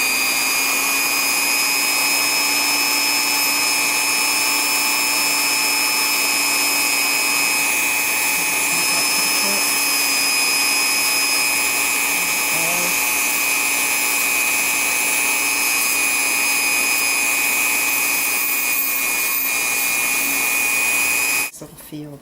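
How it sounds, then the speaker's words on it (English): A Dremel rotary tool grinds high spots on a metal relief. It gives a steady, high-pitched whine that holds unchanged for over twenty seconds and then cuts off abruptly near the end. "I'm going to pick up these high places, I think, with the Dremel"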